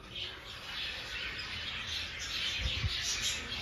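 Budgerigars in a breeding colony of about thirty pairs keep up a steady, faint wash of overlapping chirps and squawks, with no one speaking.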